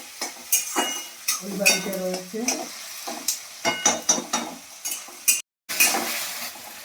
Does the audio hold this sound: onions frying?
yes